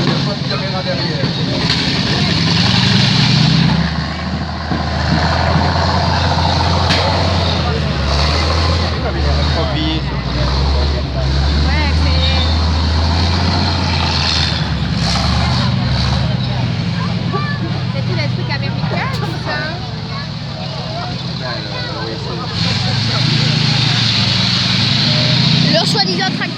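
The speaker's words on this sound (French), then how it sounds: "Leur soi-disant tracteur fait du bruit" A heavy military tractor engine rumbles steadily and loudly throughout a parade, a deep continuous drone with people talking over it.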